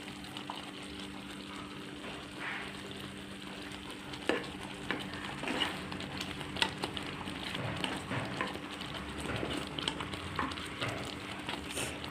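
A brinjal curry with ground spice paste bubbles thick in a pot and is stirred, giving a soft, steady sizzle and simmer with occasional scraping clinks of the spoon.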